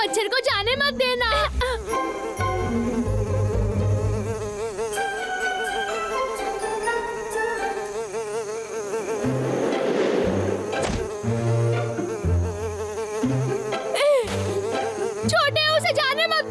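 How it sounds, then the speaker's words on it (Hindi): Cartoon mosquito buzzing as two bear cubs chase it toward a door, a thin whining drone running under continuous music and excited talking throughout. "उस मच्छर को जाने मत देना"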